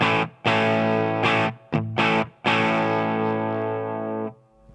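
A Schecter Omen Extreme electric guitar with its stock humbucker pickups plays heavily distorted chords, loud and close, a few chopped stabs followed by a long ringing chord that sustains before cutting off.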